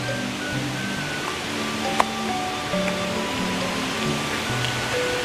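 A strong, swift river rushes in a steady, dense wash of water noise on a cloudy day at Leuwi Beruk, close and continuous with no talking.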